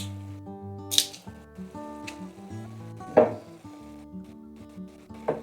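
Ground beef with garlic browns in a pan while a spoon stirs and scrapes it, giving a soft sizzle punctuated by a few sharp scraping knocks over tonal background music.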